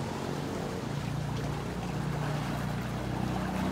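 Water churns and rushes in a swim spa with its pump on high, a dense steady roar of moving water with a low motor rumble, close and unbroken.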